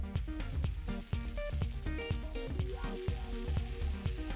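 Fish tikka skewers sizzle in hot mustard oil in a heated pan, a steady, close crackling fry that carries all the way through, with soft music playing underneath.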